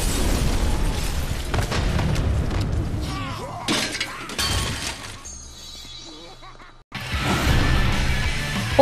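A bomb blows up in the zombie-fighting video game Lollipop Chainsaw, giving loud, crashing, shattering bursts that come and go through most of the stretch, with a brief quieter lull before one more heavy blast.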